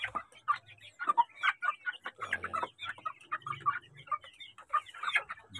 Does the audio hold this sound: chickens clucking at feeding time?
yes